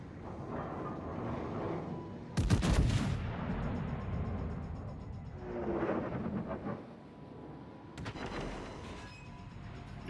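Battleship main guns boom in World of Warships aboard the Ohio, several heavy deep blasts a few seconds apart with rumbling tails over low background noise.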